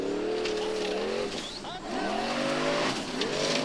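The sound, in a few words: Formula Offroad car climbing a steep hill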